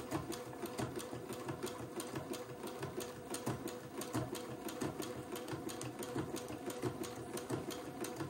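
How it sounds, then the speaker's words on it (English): A sewing machine runs a steady zigzag stitch to set an entredeau seam, with a fast, even mechanical whir and rapid needle ticking that continue close by without a break. "I'm gonna set my machine at a zigzag, the appropriate stitch length and stitch width for sewing entredeau"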